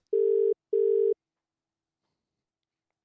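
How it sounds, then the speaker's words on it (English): A phone ringback tone sounds twice in quick succession, a steady electronic buzz pair, then silence before a third tone begins. "Oh, it's ringing."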